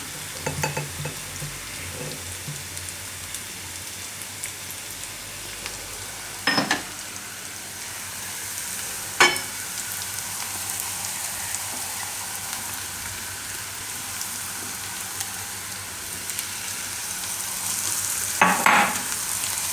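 Green onions fry in hot oil for a Gujarati dish of parvar olo, with a continuous loud sizzle throughout and a few sharp knocks and scrapes as a spoon stirs them around the pan.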